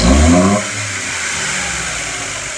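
A new budget car's engine runs loudly up close, a steady mid-pitched drone with a heavier rev swell at the start that settles into an even hum.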